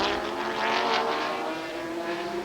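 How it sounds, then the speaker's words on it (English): A big V10 engine in a Corvette race car at a 2003 Speed GT race at Infineon Raceway roars steadily and loudly, holding a sustained high-revving drone throughout. "Big V10, plenty of power on this car"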